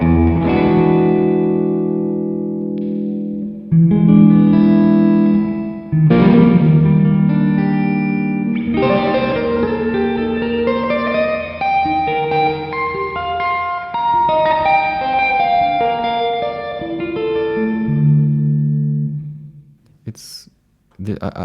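A distorted electric guitar plays sustained chords and bending notes through a REVV D20 tube amp's 6V6 power section, warm and saturated, ringing out with reverb, ending in a brief noisy burst.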